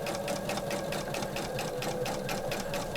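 A sewing machine runs steadily, stitching back and forth over a fabric bag strap; a fast, even mechanical chatter with a rhythmic pulsing, close and continuous, no talking.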